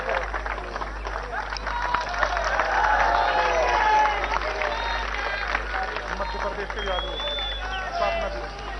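A crowd applauds steadily at a political rally in Gwalior, with clapping and murmuring blending under an amplified speaker's voice and a constant electrical hum.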